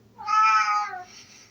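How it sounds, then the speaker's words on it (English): A cat gives a single clear, drawn-out meow, loud and close, with a falling tail at the end and quiet surroundings. "Sorry, there's a cat crying for me."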